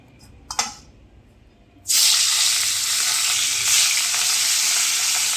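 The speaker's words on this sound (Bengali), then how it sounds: "দেখো তেল হয়ে গেছে এবারে মাছগুলোকে ভাজবো" Katla fish pieces go into hot oil after a few quiet clinks, and a loud, close sizzle bursts out and holds steady as the fish fries.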